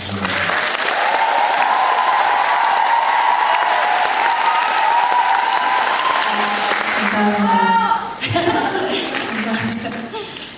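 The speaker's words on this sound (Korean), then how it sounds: "같이 인사를 나누면서 큰 박수 부탁드릴게요" A theatre audience gives loud, sustained applause with some cheering at the final-performance curtain call of the musical Jekyll and Hyde in Seoul. The clapping fades after about eight seconds as a voice begins to speak.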